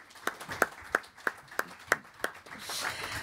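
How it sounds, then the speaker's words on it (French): Audience at an economic panel claps after a speaker, about eight distinct claps in a steady rhythm, then a softer diffuse rustle of applause at the end. "on peut applaudir Mohamed"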